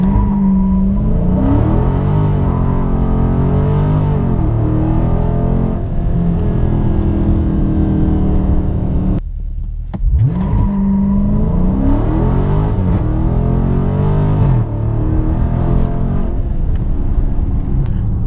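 A car on bigger tires accelerates hard in a traction test, engine revving up to around 6,000 rpm. Its loud, close roar rises in pitch, drops briefly at a gear shift, then climbs again.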